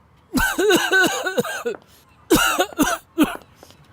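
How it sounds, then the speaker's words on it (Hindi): A man coughs indoors in a drama scene: a close, harsh run of four or five rapid coughs, a pause, then three more short coughs, with no talk. "ऐसे क्यों खांस रहे हो?"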